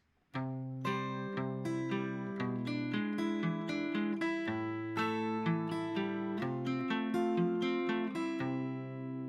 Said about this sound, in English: the song without the swing feel sounds like this.